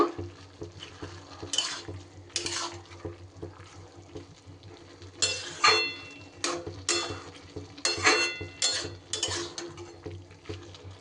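Gourd curry with soaked chickpeas stirred in a pan: irregular scraping and clinking of a spoon against the pan in bursts, close and fairly loud, over a soft low simmer, with no talk.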